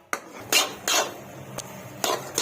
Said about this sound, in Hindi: ये देखिए मुसलसल चमचा चलाते रहना है, इसको छोड़ना नहीं है, हल्के हल्के चमचा चलाते रहना है।